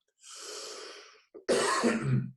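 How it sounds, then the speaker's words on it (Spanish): Two coughs: a longer breathy one first, then after a short pause a brief catch and a louder, harsher cough, close and with nothing else around. "Ya me di cuenta por la tos."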